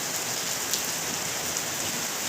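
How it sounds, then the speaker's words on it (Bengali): Heavy storm rain pours down and splashes onto tiles, a dense, steady hiss heard close by and without pause or speech. "কি বৃষ্টি, কি বৃষ্টি।"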